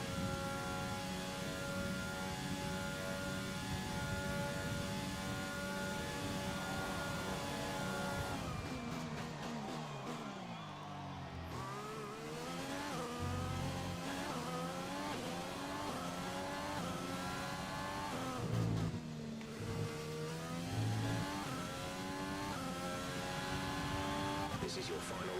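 Formula 1 race cars in F1 2020 roar through the last lap of a race in Vietnam or China, with a continuous high engine whine and pitch sweeps as gears shift. A voice talks over it.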